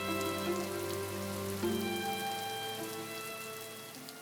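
Rain falls steadily in Buenos Aires, a continuous even patter beneath sustained tonal music that carries on throughout.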